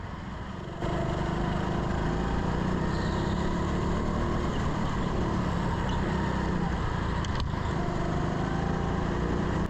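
Go-kart engines drone steadily on an indoor karting circuit at a Teamsport venue, a constant buzzing motor hum that swells in after a quiet first second and holds at an even level.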